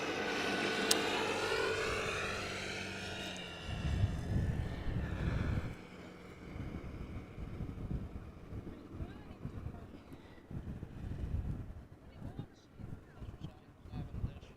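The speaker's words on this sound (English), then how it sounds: "here is the last airplane of the day" A distant airplane at Amsterdam Schiphol Airport whines faintly with a sweeping jet tone, fading under gusty wind rumble on the microphone.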